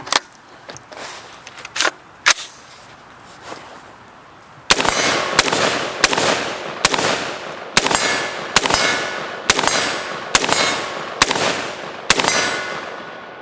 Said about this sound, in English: So let's do some shooting